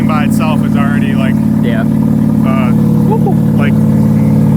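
A Mazda RX-7 rotary engine idles at about 1,000 rpm with a steady, buzzy, close drone throughout while a person talks over it.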